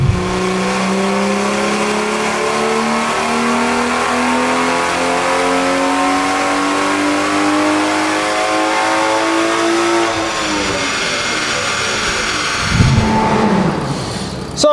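A BMW M140 with a B58 straight-six and hybrid turbo revs hard and continuously, its note climbing steadily under boost for about ten seconds before dropping off, followed by a short second blip of throttle.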